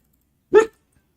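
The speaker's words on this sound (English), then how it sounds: "What are you barking at, boy?" A single sharp bark from a male dog outdoors during a softball game broadcast, one short loud woof in otherwise near silence.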